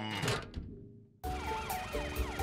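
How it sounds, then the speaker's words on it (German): A cartoon police patrol car sounds its siren, a loud wailing tone sweeping up and down close by, starting abruptly after a short pause. "Die Streifenwagen."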